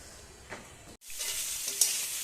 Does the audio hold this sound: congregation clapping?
no